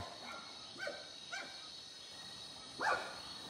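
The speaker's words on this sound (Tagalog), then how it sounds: "Tinatahulan nga ako ng mga aso." Dogs bark at night along a dark rural road, a few short separate barks at a distance with a louder one near the end, over a steady background hiss.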